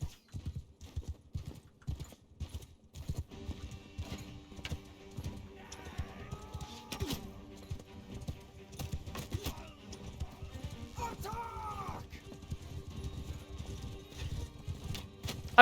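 Horse archers' hooves clip-clop steadily in the Mount & Blade 2 Bannerlord video game, a dense galloping patter running throughout, joined by scattered battle clatter and a brief whinny-like call.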